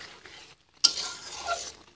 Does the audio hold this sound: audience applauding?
no